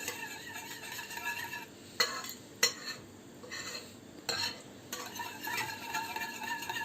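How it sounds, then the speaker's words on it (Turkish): Yogurt mixed with a cracked egg and a spoonful of flour, whisked with a spoon in a bowl for soup: soft continuous stirring with several sharp clinks of metal against the dish. "içinde hiç pütür kalmayana kadar karıştıracağım"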